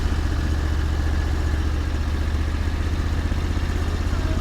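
An 8x8 amphibious ATV engine drives along steadily through island shallows, a close, continuous low-pitched drone with a faint mechanical clatter and no pauses.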